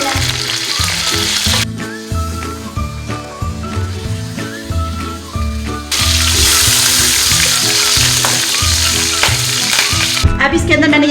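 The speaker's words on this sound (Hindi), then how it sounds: "पैन के अंदर मैंने ये ऑयल डालना है, साथ मैंने ये कड़ी पत्ता और ये जीरा डाल देना है।" Curry leaves and cumin sizzle in hot oil in a pan for Hyderabadi chicken 65, a steady frying hiss running under loud background music throughout.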